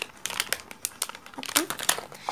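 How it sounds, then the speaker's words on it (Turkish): Crinkly plastic wrapping of a Little Pet Shop surprise toy package being torn and opened, giving repeated short crackling crunches close by, with no speech. "Bugün bir tane yeni serinin Little Pet Shop paketini açacağım."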